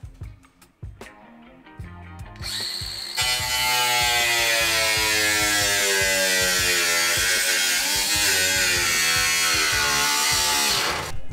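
Power tool cutting out rusty body metal on an S13 coupe, starting with a few clicks and a brief whir, then a loud, steady, harsh buzzing cut close by that stops abruptly.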